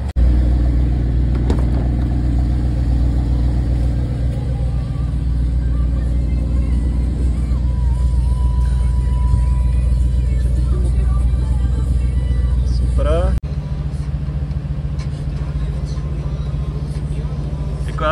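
Two cars pulling away on a test drive at a car broker's lot, a steady loud engine rumble with rising revs throughout, then a sudden cut to a different, smoother drone; people talk over it.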